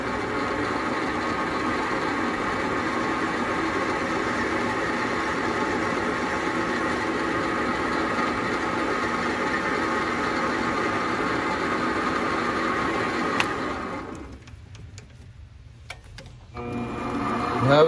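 A lathe cuts the outer diameter of a PEEK rod seal for an FX Impact air rifle, giving a steady loud mechanical whir with a constant tone that drops away near the end, leaving quieter handling noise.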